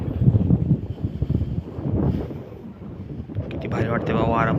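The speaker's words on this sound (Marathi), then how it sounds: "वारा पण कसलं भारी सुटले" Strong wind blowing outdoors near mango trees by a village well, rumbling and buffeting loudly across the microphone in uneven gusts, with faint voices mixed in.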